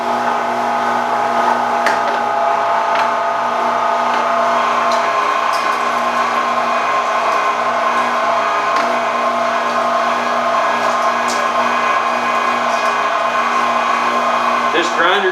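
An electric meat grinder running steadily while grinding venison and pork fat for summer sausage, a loud, close, even motor whine and hum that carries on without a break, with faint clicks and a few moments of speech over it.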